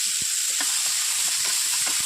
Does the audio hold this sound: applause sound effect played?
no